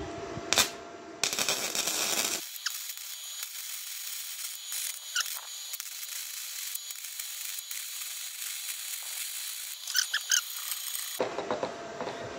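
Stick electrode welding on 1 mm galvanized steel at 70 amps with a HITBOX HBM1200, a continuous hissing crackle of the arc lasting several seconds between brief louder bursts of handling noise.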